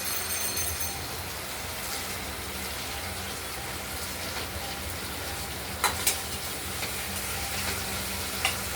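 Tomato frying and being stirred in a pan while cooking a Bengali katla fish curry with potatoes and ground spices, a steady dense sizzle throughout with a few sharper scrapes of the spoon near the end, no talking.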